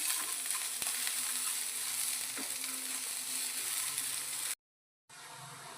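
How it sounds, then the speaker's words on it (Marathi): Garlic roasting in a pan until reddish brown gives off a steady, dense sizzle with a few sharp ticks, then cuts to silence near the end before the frying resumes. "आपण लालसर ब्राऊन होईपर्यंत भाजून घेणार आहोत"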